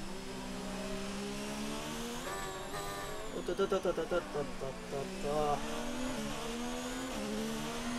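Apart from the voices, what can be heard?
F1 car engine over-revving under engine braking, F1 2019 video game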